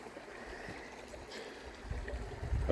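An Ozark mountain creek flows and trickles at a trail water source, a faint, steady rushing that swells slightly toward the end, heard alone.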